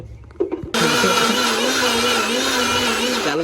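A mixer grinder whirs into life, blending onions, switching on abruptly after a few faint clicks and running loud and steady with a high, droning whine.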